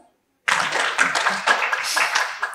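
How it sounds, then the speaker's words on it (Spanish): After a brief silence, an assembly of the Colombian ACG association bursts into applause to approve an agenda item, a dense burst of many hands clapping with a few louder claps standing out. "por favor votar con un aplauso"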